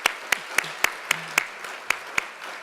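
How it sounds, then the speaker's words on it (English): Sparse applause from a small audience at an annual community foundation awards ceremony: a handful of distinct, evenly spaced claps, fairly faint and with no one talking. "Now you can applaud."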